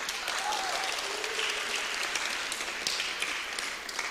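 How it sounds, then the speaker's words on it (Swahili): Steady audience applause fills a conference hall at a finance talk, a dense continuous wash of clapping with a brief whoop-like voice early on, sustained evenly throughout. "Nipigieni makofi."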